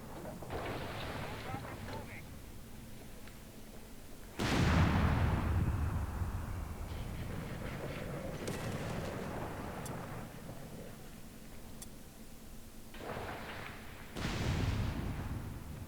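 Mortar and artillery fire in the Company of Heroes 3 real-time strategy game, a few heavy booming impacts rising from a rumbling battlefield background, while someone talks over the action.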